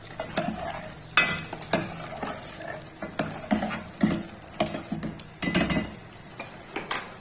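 Mutton sizzling in ghee in a pot, with soft frying hiss under repeated scraping and clinking stirring strokes at an uneven rhythm, close by.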